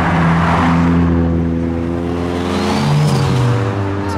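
A turbocharged Honda Civic pulls away from a Japanese car meet, its engine droning loudly and climbing in pitch as it accelerates nearby, with a rising whine through the run.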